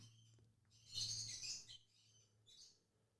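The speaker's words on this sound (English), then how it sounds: "Sorry for my birds in the background." Pet birds chirp in the background of a room, a faint burst of high tweeting with a few softer calls over a low hum.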